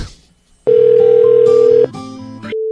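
After a telephone call is hung up, a loud, steady dial tone sounds, holds for about a second, then shifts into other line tones and a final flat tone.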